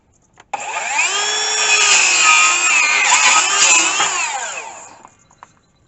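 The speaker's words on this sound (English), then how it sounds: "Just simple 7-inch skill saw. Excuse me, circular saw, because it's not skill, it's Ryobi." A cordless Ryobi 7-inch circular saw cuts through wood for a raised garden bed, a loud whining blade spinning up, straining through the cut for about four seconds, then winding down and stopping.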